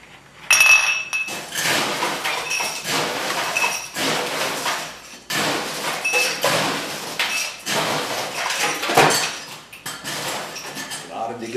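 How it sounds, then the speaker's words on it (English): Ice being scooped and dug from a bar ice bin, with repeated crunchy clinks and rattles in irregular bursts, close and fairly loud, with a voice talking over parts of it. "Digging of ice."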